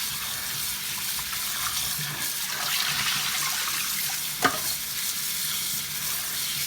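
Fish just brought from the market, being washed alongside bitter leaves, under a running tap: a continuous close rush of water and splashing, with one sharp clunk partway through.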